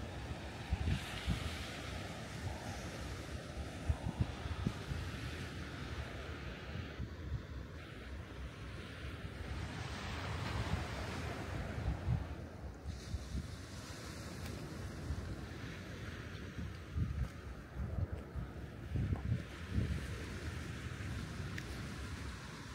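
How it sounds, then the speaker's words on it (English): Ocean waves breaking near a lighthouse lookout in Reykjavik, Iceland, with gusting wind buffeting the microphone; a steady, loud, close wash of surf rolls on throughout with no voices. "as we hear the ocean waves"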